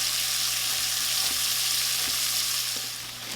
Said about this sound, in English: So you want to cook this until the onions start to get slightly caramelized.